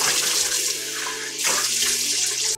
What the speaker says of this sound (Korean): 그리고 깨끗이 헹궈줄게요.